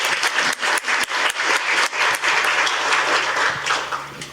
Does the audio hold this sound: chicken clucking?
no